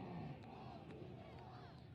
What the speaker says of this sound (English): Fantastic crowd out here cheering on for their favorite team